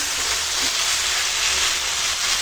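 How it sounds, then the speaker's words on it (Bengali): Chicken pieces coated in ginger-garlic paste hiss loudly and steadily as they are braised in mustard oil in a pan, an unbroken close sizzle with no voices. "এখন মাংসটা কষাচ্ছি"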